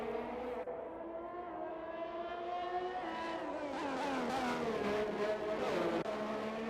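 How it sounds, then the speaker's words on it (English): A Ferrari Formula-style race car leaves the pit lane at Singapore in a racing video game, its engine whining upward through rising gear changes, quiet at first then building, with a brief shift drop near the end. "Insane Leader 13 now coming out of the pit lane as well in the Ferrari"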